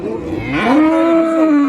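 A single drawn-out moo from a six-month-old calf at a livestock market, close and loud, rising then holding steady before fading.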